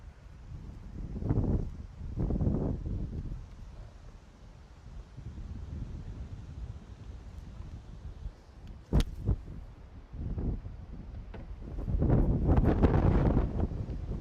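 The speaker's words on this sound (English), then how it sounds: "It's obviously a windy day today" Gusty wind buffets the microphone in uneven rumbling bursts, growing stronger toward the end, with a few sharp clicks in between.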